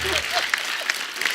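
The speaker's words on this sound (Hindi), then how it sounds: "पापा क्या ताली बजा रहे हैं।" Clapping and applause from a studio audience at a comedy talk show, a short burst of scattered hand claps mixed with voices talking and laughing.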